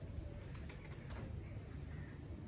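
Pigeons in an open loft, soft low cooing with a few brief wing flaps, fairly near, amid a busy outdoor background, no talk.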